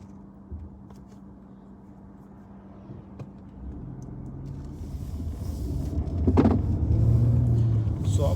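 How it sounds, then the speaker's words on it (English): An Audi A4's engine rumbles from inside the car while driving, starting as a low steady drone and swelling louder as the car accelerates, with no talking. "I'm just going to, accelerate a little bit quick so you can understand the performance of it as well."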